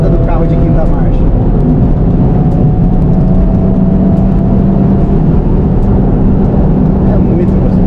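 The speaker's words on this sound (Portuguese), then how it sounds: "olha a retomada do carro de quinta marcha" A 2023 Honda Civic Type R accelerating hard in fifth gear, its engine and road noise forming a loud, steady, continuous roar from inside the car, with people talking over it.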